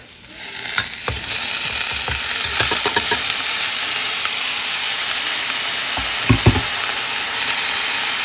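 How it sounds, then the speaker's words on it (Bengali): Leafy greens (shak) cooking in a wok-like pan give a loud, dense, continuous sizzle and hiss, with a few sharp clicks and scrapes of a utensil moving through them. "আজ রান্না করছি শাক"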